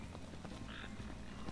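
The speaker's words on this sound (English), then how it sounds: "I hear frogs." Frogs croak softly in the background ambience of the video game Final Fantasy XV, a low, steady chorus heard at a distance without talk.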